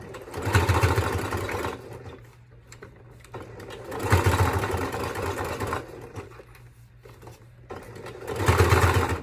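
A sewing machine stitches fabric binding onto a small micro bag keychain, three steady bursts of rapid humming motor and needle clatter separated by quieter pauses, close and even in level.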